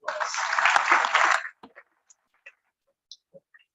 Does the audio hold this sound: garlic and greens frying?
no